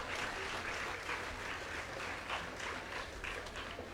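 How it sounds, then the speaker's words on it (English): A crowd at a school STEAM fair applauds steadily, many hands clapping in a dense, even wash of sound that holds for several seconds. "So please give the judges who worked so hard a round of applause."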